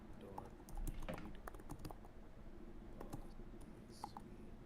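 Quiet typing on a computer keyboard during a machine learning coding session, irregular soft key clicks scattered across several seconds over faint room noise.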